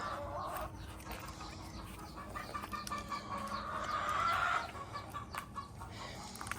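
A rooster crows once in a garden setting, a drawn-out call rising over soft background clucking and ambient outdoor noise, moderately distant and fairly faint.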